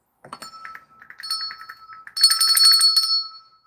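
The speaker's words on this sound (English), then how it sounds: "Ring for a hug. I love that bell." A small hand bell rings close by in a quiet room: a string of light, quick tinkling strikes, then a louder, fuller burst of rapid ringing before it stops.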